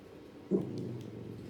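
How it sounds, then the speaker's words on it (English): A dog growls or whimpers briefly, a short low rumble that swells once and then settles into a faint steady murmur against game background sound. "my dog's rattling up for no reason"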